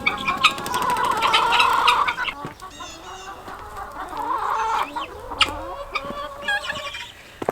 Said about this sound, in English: my chickies know that it is time to eat, and they're starting to form around me